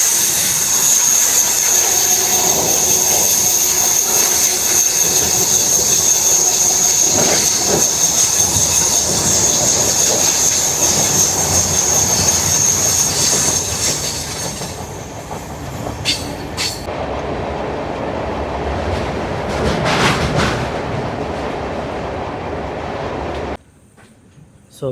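The Seshadri Express crosses the Godavari river bridge in a new LHB coach, giving a loud, continuous roar of wheels on rails with a high metallic whine. The sound later drops to a duller rumble and then cuts off near the end.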